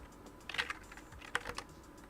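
Keyboard shortcuts tapped out on a computer keyboard at a desk, with two short bursts of quick, light key clicks over faint background hiss, no talking.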